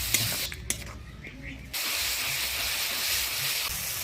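Loud, steady hissing sizzle fills the clip, briefly dipping then surging back strongly as a little water hits frying spices in a hot pan.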